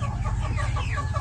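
A Rhode Island Red rooster clucks close up in a short, steady burst of throaty calls.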